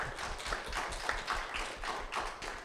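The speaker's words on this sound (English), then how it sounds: "Can we please give a round of applause for Linda Whitlock?" A small group at a business expo panel claps in a loose, uneven rhythm, individual hand claps distinct rather than blended, moderately close and fairly quiet.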